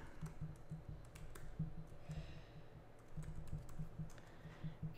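Someone types on a computer keyboard to enter login details while setting up a blog, producing steady, close clicking keystrokes over a low electrical hum, with no one speaking.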